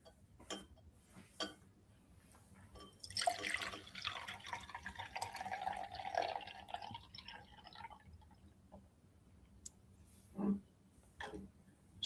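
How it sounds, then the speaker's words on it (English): A ball lowered into water displaces the water into a smaller beaker, making a soft trickling, pouring sound for several seconds between scattered drips and light taps of glassware. The sounds are quiet and close, with no talking. "So I'm going to lower the ball again."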